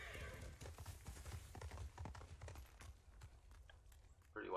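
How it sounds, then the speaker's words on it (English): A white horse in the Ghost of Tsushima game clip-clops along with soft rhythmic hoof falls and a brief whinny, faint and mixed under quiet talk and game ambience. "Pretty white horse."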